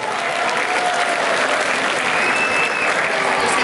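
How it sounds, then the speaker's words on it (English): A large keynote conference audience applauds in a loud, dense, steady wash of clapping and cheering that fills the whole stretch without pause. "Give yourself a round of applause."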